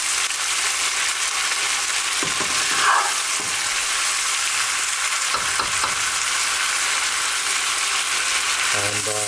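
Chicken pulao stirred and cooked in a pan: a steady, loud sizzle throughout, with occasional scraping strokes of a utensil against the pan and a brief clink near the end.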